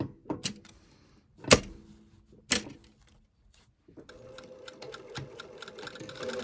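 A sewing machine stitches black lace with a small triangle pattern, a few sharp clunks and knocks first, then a close run of rapid rhythmic stitching toward the end, no talking.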